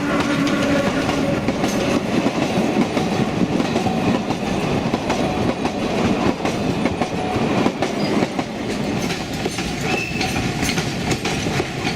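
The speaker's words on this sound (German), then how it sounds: "Der Zug überquert das Viadukt Cinque Ponts, also das Viadukt mit den 5 Bögen, auch Viaducto Monreal genannt." The narrow-gauge Sóller railway train on Mallorca crosses the five-arch stone Cinque Ponts viaduct with a loud, steady rumble and rhythmic clickety-clack of wheels on rails, continuous throughout and close by.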